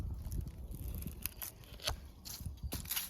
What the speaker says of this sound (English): Come in here and just cut.